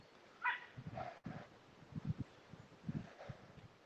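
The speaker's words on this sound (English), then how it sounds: "it's a noisy dog" A dog gives a few short, yipping barks and whimpers at a moderate distance on a nature walk, scattered through about four seconds with rustling and faint outdoor background.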